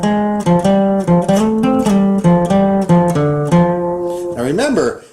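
A slow boogie woogie blues lick on guitar, a steady run of distinct plucked notes rising and falling in a shuffling pattern, loud and close, ending in a wavering bent note, with no talking.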